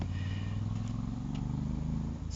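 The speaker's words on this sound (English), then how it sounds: "You can hear motorcycles coming as they gather" Motorcycles gather and arrive, a low steady engine rumble with soft clatter, fairly close and continuous throughout.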